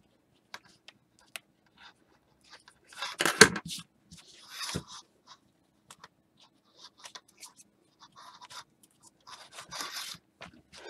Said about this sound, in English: take my scissors and scratch my zipper just to get that stabilizer started and then just peel it right off.